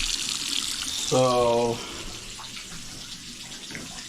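A bathtub tap runs during a home leak inspection, giving a steady close hiss of flowing water throughout, with a short voice briefly over it.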